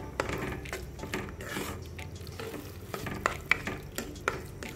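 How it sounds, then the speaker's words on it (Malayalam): Macaroni and carrot being stirred while frying in ghee in a pan: continuous soft sizzling with repeated scraping and tapping of a spoon against the pan, close and steady, no talking. "ഈ മക്രോണിയും ക്യാരറ്റും കൂടെ നല്ലപോലെ മിക്സ് ആവട്ടെ."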